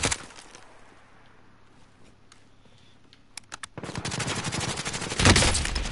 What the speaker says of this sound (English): I'm getting sniped from the side.